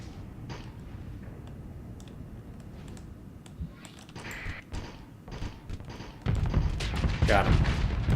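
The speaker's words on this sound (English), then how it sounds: "let my guns keep firing" Guns fire in the space combat game Starsector, rapid clicking shots and soft booms that grow louder and denser toward the end, with someone talking over them.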